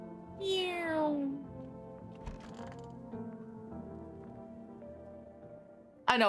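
Video game cat gives one drawn-out meow that falls in pitch, fairly clear and near. Quiet game sounds and a soft background hum follow, and another brief sharp sound comes at the very end.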